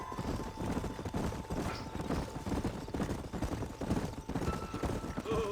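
Horses trotting with steady, overlapping clip-clop hoofbeats in the Red Dead Redemption 2 video game, loud and continuous across the whole stretch, with faint game ambience and a brief tonal sound near the end.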